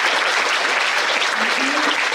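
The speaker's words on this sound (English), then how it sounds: "please be generous in applauding" Audience applause at a school prize distribution ceremony, dense steady clapping from a crowd, close and continuous through the short stretch.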